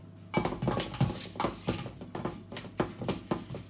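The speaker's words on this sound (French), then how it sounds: "on va finir à la cuillère pour garder ça fasse un peu une purée à l'ancienne" A spoon mashes applewood-smoked potatoes in a bowl, giving a series of close, dull knocks and scrapes at an irregular rhythm, each stroke clear and fairly loud with no talking.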